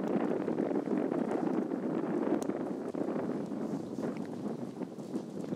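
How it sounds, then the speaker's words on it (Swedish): Steady wind blows across a disc golf course in Linköping, a continuous broadband rush buffeting the microphone throughout, loud and unbroken with no voices. "Hörs att det blåser? Mm, det gör ju det."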